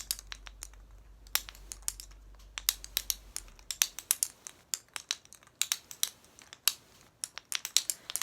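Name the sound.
Jacob's Ladder toy clicking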